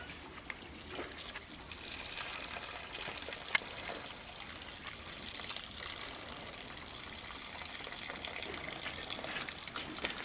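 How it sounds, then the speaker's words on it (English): A steady splashing stream of liquid as a cow urinates in a dairy barn, moderately close and continuous, with faint barn ambience and a single sharp knock partway through. "We'll ignore that peeing sound."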